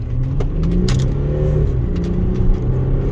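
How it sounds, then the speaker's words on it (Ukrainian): An Audi A6 C6 Avant 3.0 TDI Quattro from 2006 with automatic tiptronic in sport mode pulls away from a standstill uphill, its diesel engine giving a steady loud rumble heard from inside the cabin with no talk. "І ми будемо рушати від нуля до сотні, он в ту горочку."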